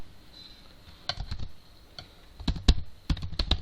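Python code being typed on a computer keyboard produces close, irregular bursts of clicking keystrokes with short pauses between runs.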